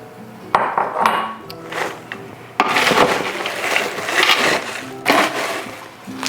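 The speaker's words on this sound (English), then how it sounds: "So next we're gonna add some Reese's peanut butter cups." Reese's peanut butter cups poured into a bowl of holiday snack mix, heard as close clattering and rattling bursts of small pieces tumbling against the bowl in several uneven waves.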